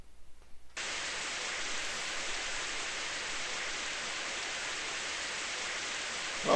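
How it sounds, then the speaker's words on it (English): Heavy rain in the RPG Maker video game Crimson Snow Deluxe, a steady loud hiss of downpour that starts abruptly and runs on unbroken with no voices. "Oh, 'tis pissing rain."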